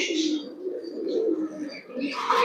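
Pigeon cooing from a loft with an older breeder's birds, soft low coos running through the clip alongside brighter chirps, with people talking close by.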